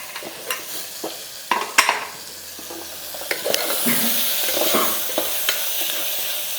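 Paneer pulao being stirred in a pan for a weight-loss recipe, with a spoon scraping and turning through the rice in short strokes over a light, steady sizzle of frying, with occasional clinks against the pan.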